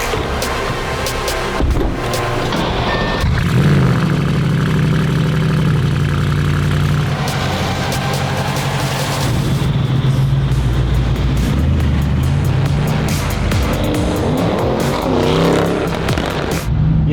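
A Bentley engine hums and surges while driving, a steady loud drone with rising revs and shifts, close throughout, with no talking over it.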